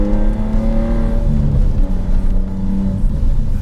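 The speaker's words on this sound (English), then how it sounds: "These V6 petrol engines, when fettled with the exhaust system, sound phenomenal." Ford Mondeo ST220 V6 petrol engine on a modified exhaust, bagged and wide-arched, holding a loud, steady, throaty drone with a rising and falling whine, close by and alone.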